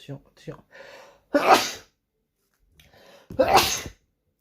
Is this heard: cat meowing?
no